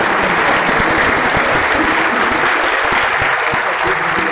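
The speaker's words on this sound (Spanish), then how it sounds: "Pueden aplaudirle ya" An audience at a suicide-prevention forum applauds steadily and loudly, a dense wash of many hands clapping without pause throughout.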